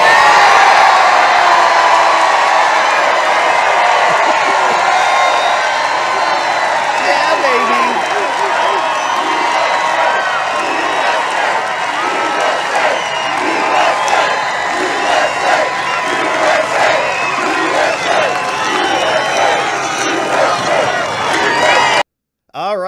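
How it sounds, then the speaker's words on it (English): A political rally crowd cheers and whoops wildly after a Trump speech line, a loud sustained roar with shouts and clapping that holds steady for over twenty seconds and then cuts off abruptly. "The crowd goes wild."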